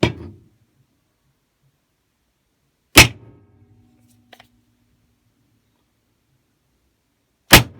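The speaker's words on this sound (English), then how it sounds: "going to give it a hit with this hammer and also with the back edge as well." Two sharp, loud metallic strikes of a hammer on a powder-coated metal test piece, several seconds apart, each with a brief ringing decay, and a faint tap in between; no talking.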